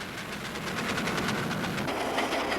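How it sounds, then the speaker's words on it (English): Steam engine train running with a steady, dense rumble and rhythmic chuffing texture, continuous and fairly close, with no voices. "For some, no doubt, steam engines are the attraction."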